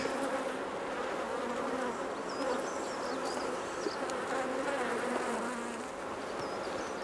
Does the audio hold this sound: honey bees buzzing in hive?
yes